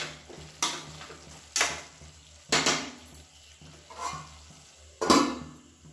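Chicken curry stirred in a pan, a spoon scraping and knocking against the metal in about five separate bursts with quiet gaps of low simmering between them, close by and no voices.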